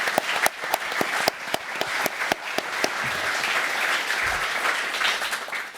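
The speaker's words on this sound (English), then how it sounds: "can we just give a clap to the crew who did this both physically and logistically?" An event audience applauds the crew at a women's basketball head coach introduction. A few loud, separate claps come first, then they merge into a steady, full round of clapping with no talk over it.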